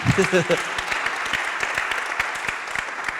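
Audience applause at an artists' talk: a voice speaks briefly at the start, then scattered claps from a small crowd follow in an uneven, moderate patter.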